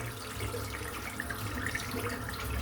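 Running tap water pours steadily into a sink as soap is rinsed away after a head shave, a continuous close splashing rush with no voices.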